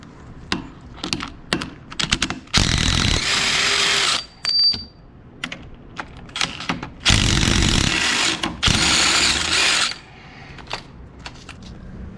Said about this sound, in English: we're gonna go ahead and remove the bottom screws with your 15 millimeter